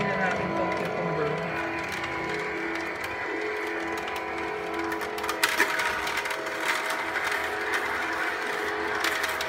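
An Imarflex slow juicer grinds cucumber with a steady mechanical whirr and ratcheting clicks that carry on throughout, close and fairly loud, while someone talks over it.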